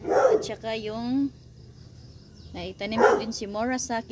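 A dog barks close by in a garden with cactus plants: a few sharp, whining barks and yelps in two bursts, mixed with a person talking.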